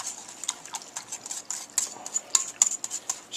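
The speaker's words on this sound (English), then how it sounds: "stir the sour cream in" A whisk stirs sour cream into a flour mixture in a bowl, making quick light ticking clicks in a loose rhythm, close and fairly quiet, with no talk.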